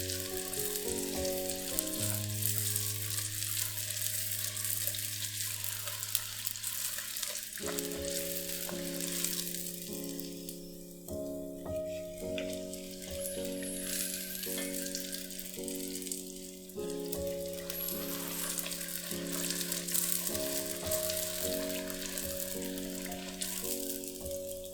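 Chinese dough fritter deep-frying in hot oil gives a loud, continuous sizzle and bubbling crackle that runs the whole time beneath steady background music.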